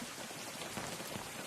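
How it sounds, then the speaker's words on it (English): Rain falls in the survival video game Unturned, a soft, even hiss of dense drops that stays faint and steady throughout with no voices over it. "I think especially when it's raining like this."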